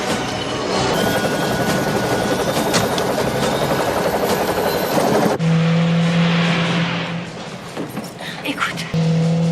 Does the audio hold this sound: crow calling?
no